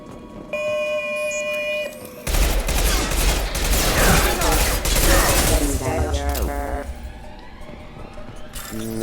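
SMG fire in the video game Mass Effect 2, a loud burst of rapid automatic shots in the middle of the clip, with game tones and effects before and after it.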